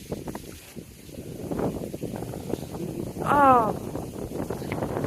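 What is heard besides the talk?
wind blowing outdoors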